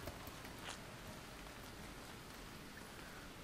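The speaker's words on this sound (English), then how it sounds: "Get out of the rain." Steady rain pours down in the Starbound video game, a dense, even hiss of drops on surfaces that holds at a constant level throughout with no voices over it.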